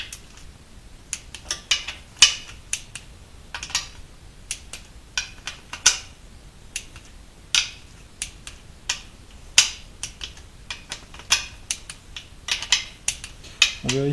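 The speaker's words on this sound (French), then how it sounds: "maintenant on peut faire un petit serrage au couple." A torque wrench tightening bolts on a Chevrolet TH 350 automatic transmission gives a string of sharp, snappy clicks at irregular intervals, close and fairly quiet over a soft background.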